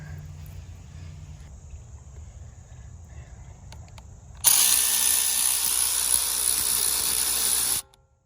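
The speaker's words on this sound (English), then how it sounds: "I'm gonna go ahead and drill some holes and put our anchors in" A power drill bores holes for wall anchors during a mini split air conditioner install, a loud, steady high whine that starts abruptly about halfway through and stops sharply, following a quieter stretch of faint background hum.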